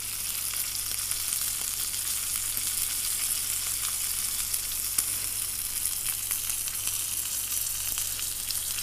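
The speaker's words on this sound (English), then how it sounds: "sear it on the side, on the fat, just to help get that fat a little bit crispy" Steady, fairly loud sizzle and crackle of steak fat searing on its side in a hot frying pan, continuous and alone with no talking.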